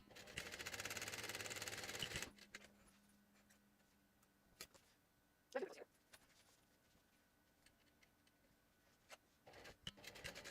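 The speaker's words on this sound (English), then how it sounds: "I do like the 2 rows of top stitching that is indicated in the pattern" A sewing machine top stitches a pouch panel in a short loud whirring burst at the start, followed by quiet handling clicks and taps of fabric and tools.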